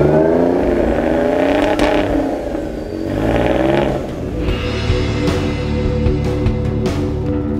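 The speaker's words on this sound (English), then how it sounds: "rev it up. Just listen to the sound of that. That is the exclusive sound of the new CX-16." The Jaguar C-X16 concept car's engine revs up and settles in close, loud bursts, rising and falling in pitch with mechanical whir and clatter between pulls.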